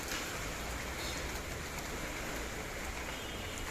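Steady rain falls as a dense, even hiss, fairly quiet and unbroken throughout, with no voices.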